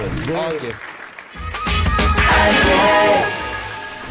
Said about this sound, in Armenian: Դե լավ եկեք ծափահարեք